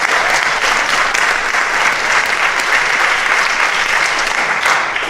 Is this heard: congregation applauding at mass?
yes